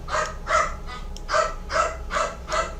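A dog barks six times in a steady, evenly spaced rhythm, moderately near, over a low constant hum.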